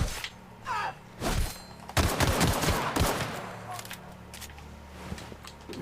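Bursts of gunfire in a video game crackle and thud in loud clusters aimed at the player, dense in the middle and thinning toward the end, with a voice heard briefly.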